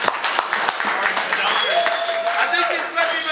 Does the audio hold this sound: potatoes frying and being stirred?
no